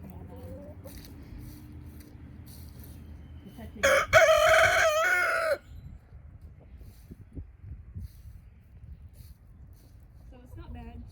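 A single rooster crow rings out in a yard, a loud burst lasting under two seconds midway through, surrounded by quieter outdoor rustling and faint distant sounds before and after.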